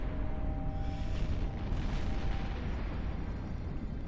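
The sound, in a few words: missile hits on player ship in EVE Online video game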